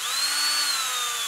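Power drill boring a 1/16 inch hole in a plunger tube bushing while building a SnapBow, a steady high-pitched whine that holds evenly and close throughout, with no one talking.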